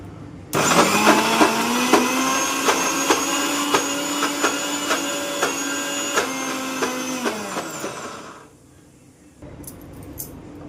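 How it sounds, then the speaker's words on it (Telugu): A kitchen mixer grinder whirring loudly as it grinds green chilies, asafoetida, cumin and salt for pesarattu batter, running steadily for about eight seconds with rattling pulses before cutting off. "పచ్చిమిర్చి ముక్కలు, చిటికెడు ఇంగువ, జీలకర్ర, తగినంత ఉప్పు ఈ మిక్సీ జార్లో వేసేసుకొని ఇవన్నీ మెత్తగా రుబ్బేసుకుందాం."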